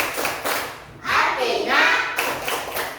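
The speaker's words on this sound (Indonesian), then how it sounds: "sekarang kita main tepuk dulu. Tepuk surah Al-Hujurat." A school class playing the Tepuk surah Al-Hujurat clapping game, many hands clapping in rhythm with thumps and taps, close and fairly loud, with children's voices chanting along.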